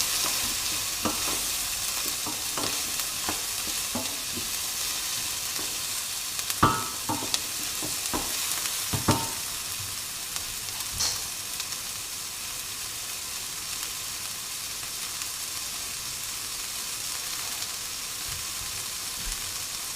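Onions frying in a pan for a spaghetti bolognese, a steady close sizzle with irregular scraping clicks from stirring scattered through the first half, then continuous frying alone.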